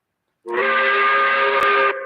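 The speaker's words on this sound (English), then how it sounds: "5 o'clock whistle brought to you by Katie's" Five o'clock steam whistle, a loud steady multi-tone blast that starts abruptly after a moment of silence, holds for about a second and a half, then cuts off, alone with no talk.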